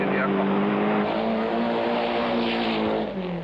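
A rally car at the 1991 International 3 Städte Rallye slides across a shale oval, its engine holding a loud, steady, strained drone close by while a commentator talks over it.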